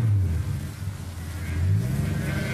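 A car engine revs while the driver hunts for second gear, a close droning rumble that dips and surges as revs fall and climb again, with no talking over it.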